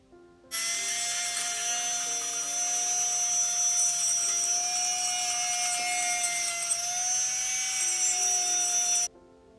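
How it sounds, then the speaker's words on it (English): A steady high-pitched whine of a small rotary tool sanding the bottom of a small wooden rocking horse, running continuously for several seconds at close range. "used the rotary tool to sand down the bottom."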